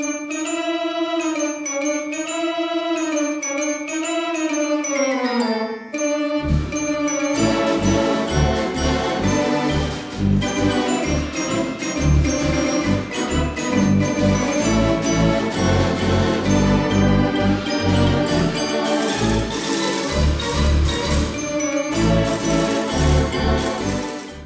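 A Wurlitzer theatre pipe organ plays loudly with its percussion effects, opening on a wavering sustained tremulant tone before launching into a full, busy passage with rhythmic accompaniment for the rest of the stretch.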